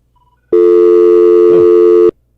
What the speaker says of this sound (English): the phone lines are ringing already